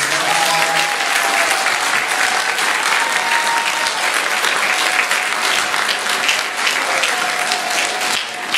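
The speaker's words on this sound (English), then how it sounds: "We have one more round of applause for our job" An audience at an awards event gives loud, sustained applause, a dense continuous wash of clapping that holds steady throughout with faint voices beneath.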